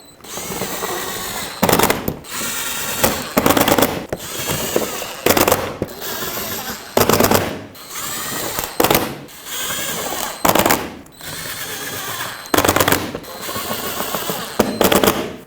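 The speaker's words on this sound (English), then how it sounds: "Resecure it with all the 7mm screws that were holding it in place." A power drill drives 7mm screws into the front bumper cover of a 2007-2010 Chrysler Sebring. About eight loud, close whirring bursts are separated by short pauses.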